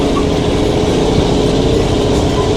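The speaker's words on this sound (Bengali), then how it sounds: "এই পথ দিয়ে টয় ট্রেন আস্তে আস্তে এগিয়ে চলেছে।" A Darjeeling Himalayan Railway toy train moves slowly along its line, giving a steady, dense rumble of engine and rolling wagons that stays close and loud throughout.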